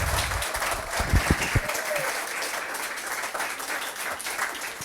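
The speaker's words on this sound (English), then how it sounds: "let's give Matt a round of applause" Audience applause at a Nerd Nite talk on print making, a steady wash of many hands clapping in a room for about five seconds, with a few louder thumps and a brief murmur of voices underneath.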